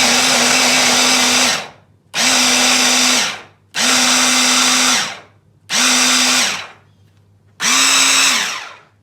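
A kitchen blender whirring through avocado and garlic in five loud, even pulses of about a second and a half each, separated by short pauses, with no voices.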